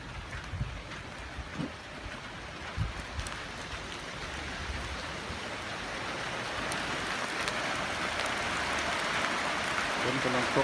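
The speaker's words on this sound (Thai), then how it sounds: "ฝนกำลังตก" Steady rain falls and patters on surfaces, a broad hiss growing slightly louder over time, with a few brief voices and knocks early on.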